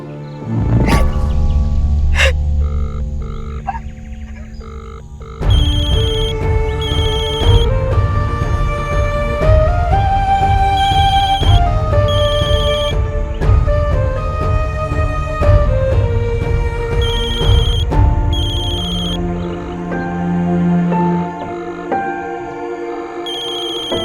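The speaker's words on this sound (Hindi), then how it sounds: "कौन सा दूसरा फोन बज रहा है?" A phone ringtone plays loudly and continuously, a melodic electronic tune with repeating tonal phrases that carries on without pause and no talking over it.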